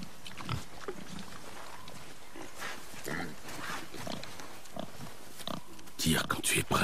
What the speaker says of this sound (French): Je savais que c'était un sanglier.